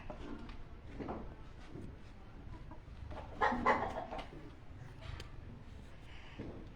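Hens cluck softly and intermittently close by inside a cage, with one louder burst of clucking in the middle.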